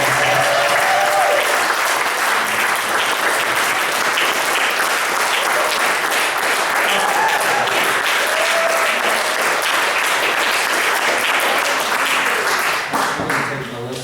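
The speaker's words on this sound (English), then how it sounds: "hopefully that applause was not for me" Audience applause at a testimony event, a loud, continuous roar of many hands clapping that holds steady for the whole stretch, with faint voices rising briefly near the end.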